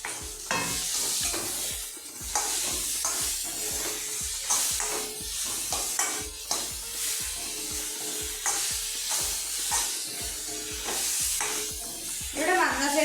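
A whole tomato drops into a pan of sautéed onions for a Kerala-style pork curry, bringing steady sizzling frying broken by repeated stirring scrapes, close and fairly loud.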